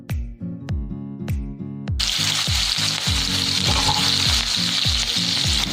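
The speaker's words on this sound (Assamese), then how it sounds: "এতিয়া মাহীয়ে পিঁয়াজ দি দিব।" Onions hitting hot oil in a home kitchen pan burst into a loud, steady sizzle after a couple of seconds of quieter background, with a low rhythmic mechanical thumping continuing underneath throughout.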